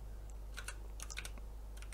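Quick, close computer keyboard typing: a short burst of crisp key clicks in uneven clusters over a low steady hum, with no voices.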